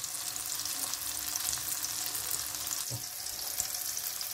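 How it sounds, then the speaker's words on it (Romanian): Tomatoes and garlic fry in a pan with a steady, dense sizzle and occasional soft stirring clicks, close and continuous. "Lăsăm roșiile împreună cu usturoiul pentru a se prăji aproximativ"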